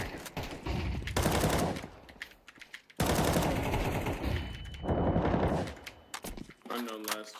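Bursts of loud gunfire erupt in a tactical shooter video game, with rapid volleys and single shots mixed among overlapping voices of players talking.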